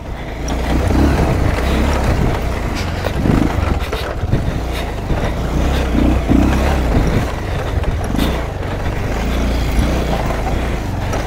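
A motorcycle rides along a dirt track, its engine droning steadily and loud throughout with surges of revving, buffeted by wind noise on the microphone.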